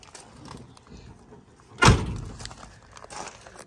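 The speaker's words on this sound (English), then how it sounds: "I'm having trouble shutting doors today" A car door on a 1969 restomod Chevrolet Camaro with an LS3 engine and a stiff hinge swings shut with one solid thunk, moderately loud over quiet background murmur.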